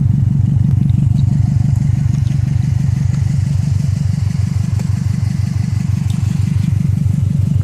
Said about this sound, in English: Just gonna do a exhaust pull clip. Automatic.